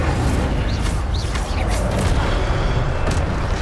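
Incendio fire spell cast in Hogwarts Legacy, a dense roaring burst of flame layered with booming rumble that holds steady and loud for several seconds.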